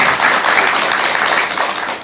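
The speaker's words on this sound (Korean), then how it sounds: "이럴 때는 우리 대단하신 목경찬 교수님께 큰 박수 한번 주도록 하겠습니다" Audience applause at a Buddhist college lecture event in honor of a professor, a dense, steady wash of clapping filling the whole short stretch at close, loud level.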